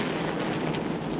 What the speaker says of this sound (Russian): Какая чудовищная гроза!